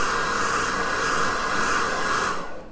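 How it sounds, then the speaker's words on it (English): A hair dryer blows on a car seat belt with a loud, steady whooshing roar, then switches off and winds down at the end. "You can gently help it dry with a hairdryer"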